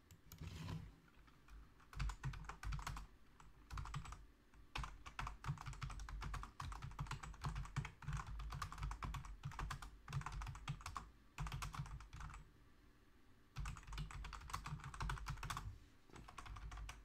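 Steady typing on a computer keyboard, a quiet, continuous patter of key clicks with brief pauses between bursts, close by and alone.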